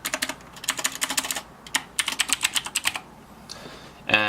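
Rapid keystrokes clatter on a PC keyboard in short bursts with brief pauses, close and fairly quiet, as a folder name is typed.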